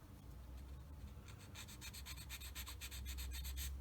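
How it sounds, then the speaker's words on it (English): Sandpaper rubs residual sprue gate nubs off a plastic part of a 1/35 scale model kit, giving faint, steady scratchy strokes that quicken into a rapid, even rhythm, with no talk. "I'm just going to sand those things off."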